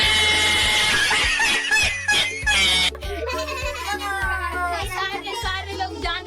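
During a spin-the-wheel challenge game, a person imitates a goat's bleat with a wavering, nasal cry, heard over loud rhythmic background music.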